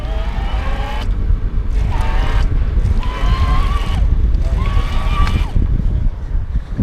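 Walleräng M.01 electric bike motor on high assist at higher cadence, a whining motor tone rising in pitch in repeated bursts over steady wind and road rumble.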